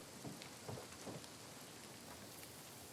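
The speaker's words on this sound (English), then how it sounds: "Sounds like it's raining, but I'm not seeing the rain." Steady rain hisses in The Last of Us Part II, a quiet, even wash of drops on surfaces with a few soft low thumps near the start, no voices over it.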